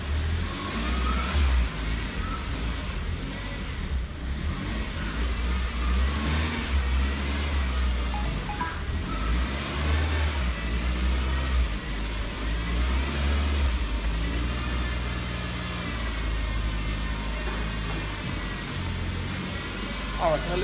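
A Ford Transit Connect van engine runs close by at a steady, loud drone with some revving. A person talks over the engine now and then.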